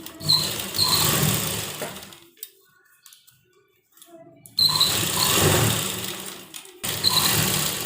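A sewing machine runs a stitching line along a kurta seam, whirring steadily in two bursts separated by a quiet pause, loud and close with no talk.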